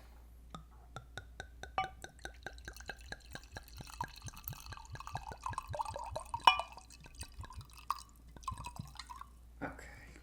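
Wine glugs out of a bottle in a quick run of rhythmic drips and splashes that speeds up and then tapers off, with faint voices murmuring underneath.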